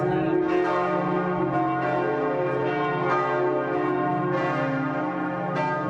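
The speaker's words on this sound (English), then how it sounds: "The bells ringing at Notre Dame, the church there, the cathedral." Large bells of Notre Dame cathedral ring out in a full, steady peal, their overlapping resonant tones sustained and loud throughout.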